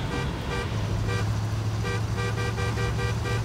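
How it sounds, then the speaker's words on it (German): Vehicle horn in Battlefield Bad Company 2 honking repeatedly in short, evenly spaced toots over a steady engine drone, fairly loud and with no talk. "Hupst du gerade?"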